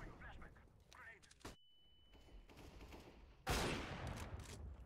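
Gunfire from the Counter-Strike: Global Offensive video game, with one loud burst of shots near the end, over steady game noise and chatter from players talking.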